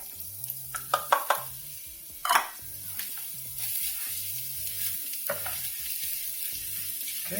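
Garlic and onions dropped into a hot pan and sautéing for a clams casino dish: a few sharp sizzling bursts and clatters, then a steady close hiss of frying, with no talking.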